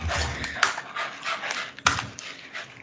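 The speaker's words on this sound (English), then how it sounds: "I hear them panting." Several excited dogs pant rapidly and close by, a steady breathy huffing with two sharper yelps or squeaks breaking through, with no talking over it.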